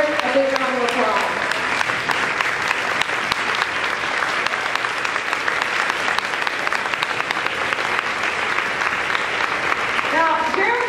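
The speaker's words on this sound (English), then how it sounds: "Let's give Jeralyn, Ms. Hafford, a big round of applause." A crowd of teachers and staff gives a big round of applause for two colleagues, a loud, sustained wash of clapping filling the room from start to finish, with a voice speaking briefly at either end.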